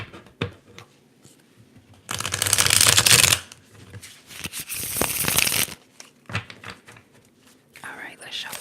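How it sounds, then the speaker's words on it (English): Tarot cards shuffled in an ASMR setting, a long close, dense riffling burst followed by several softer shuffles, with quiet whispering in the gaps. "let's shuffle"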